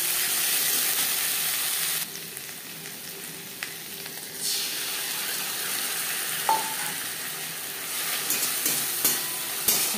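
Chopped onions fry in hot oil with ginger and green chili paste for a Katla Kalia fish curry, giving a steady close sizzle with a few light clicks and stirring sounds.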